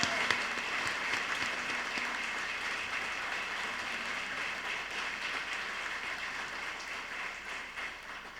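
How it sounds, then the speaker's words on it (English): Sustained applause from a banquet audience at a chamber of commerce dinner, a broad crowd of hands clapping steadily, starting fairly strong and gradually thinning and fading toward the end. "Please give her a round of applause."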